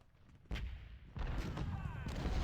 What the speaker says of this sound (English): Okay, that's my artillery.